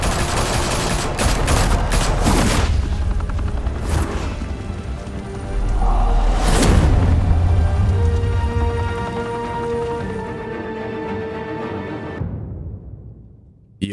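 Gunfire in the Batman Telltale video game: loud rapid bursts of automatic fire and sharp shots at the start, a heavy boom midway, then sustained rattling fire and ringing debris fading out near the end.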